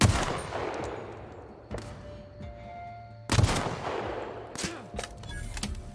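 Rifle shots in The Outer Worlds, with a few loud, sharp blasts spaced a second or two apart, each trailing off into a ringing decay over ambient game background.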